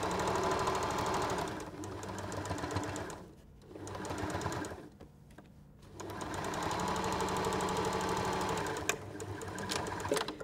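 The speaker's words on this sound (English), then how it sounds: "stitch down on the outside of the fabric with about a 5mm seam allowance" A sewing machine stitches down the outside of a zipped fabric pouch with a small seam allowance, running in a steady fast whirring rhythm with two brief pauses, close and alone.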